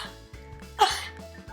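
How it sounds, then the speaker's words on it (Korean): A single loud, forceful cough from the belly, performed as a demonstration of clearing food caught in the throat, bursts out sharply and briefly over a quiet background with a low musical bed beneath. "와, 정말 큰 기침인데요."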